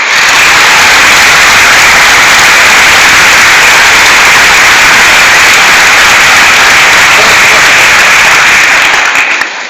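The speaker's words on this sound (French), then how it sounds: "j'aimerais qu'on applaudisse très fort quelqu'un qui ne s'appelle pas du tout David" A large audience applauds loudly and continuously at the end of an Arnaud Tsamère stand-up comedy show, a thick wash of clapping that holds steady before cutting off at the end.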